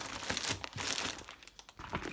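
A package being opened, with close crinkling and rustling of plastic wrapping in quick irregular bursts, loud at first and tapering into scattered crackles, no talk.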